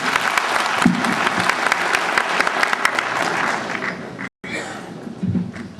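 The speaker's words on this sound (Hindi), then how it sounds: "जोरदार ताली से स्वागत कीजिए।" Loud, dense applause from a large audience greets guests at a Dhanuk community conference in Bihar, a sustained clapping burst that briefly cuts out and then resumes.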